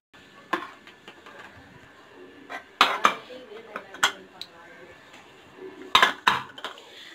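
Rice being mixed in a pressure cooker and the lid closed, giving sharp metallic clanks and scrapes of a spoon against the pot, spaced irregularly with quieter gaps between.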